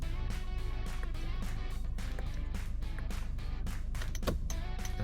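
Steady rhythmic clicking of a Toyota Veloz turn signal indicator repeats over a constant low engine and cabin hum, with no talking.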